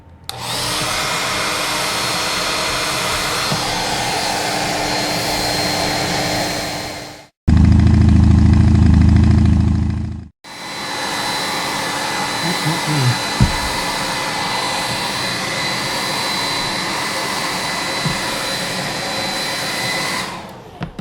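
A hair dryer runs steadily with a loud whooshing drone, cuts briefly to a different, louder low-pitched setting for a few seconds, then returns to the original continuous blowing hum.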